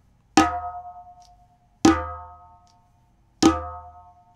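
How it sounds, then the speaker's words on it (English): Three flam strokes on a djembe, each two hand hits landing almost together, spaced about a second and a half apart, with a sharp attack, a ringing decay and silence between them. "flam sounds like this on a djembe"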